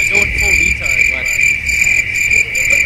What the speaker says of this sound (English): Overwhelmed with crickets.